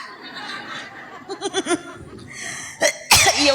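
An older woman coughs during a humorous Sundanese religious sermon: a few short rough bursts, close and fairly loud, among faint room noise and brief laugh-like snorts.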